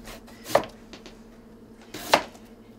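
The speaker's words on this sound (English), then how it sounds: "It's going to start to cook as we're slicing the potatoes up." A knife slices through potatoes on a board for a potato mushroom casserole, two distinct sharp cuts about a second and a half apart, close and clear with quiet room noise between.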